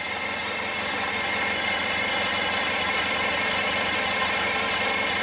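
A 1994 Honda ST1100 Pan European motorcycle idles close by at its first start of the season, a steady, loud, even engine drone with a low rumble and no voices.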